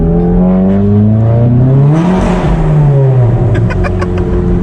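A 350 hp VW MK7 GTI engine revs hard and close, its pitch climbing and dipping in a loud, continuous roar.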